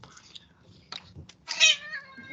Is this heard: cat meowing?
yes